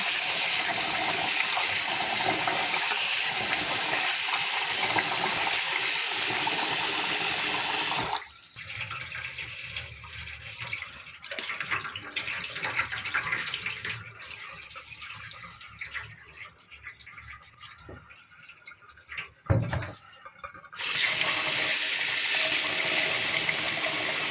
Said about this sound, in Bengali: চালটা হচ্ছে আমি ভালোভাবে ধুয়ে তারপরে হচ্ছে ভাত বসিয়ে দিব